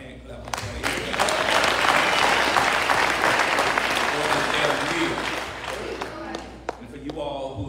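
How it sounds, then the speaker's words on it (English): A church congregation claps for the pastor at a Sunday service, steady dense applause filling the room with a crowd murmur and voices mixed in, tapering slightly near the end. "I want you to give the pastor another hand clap."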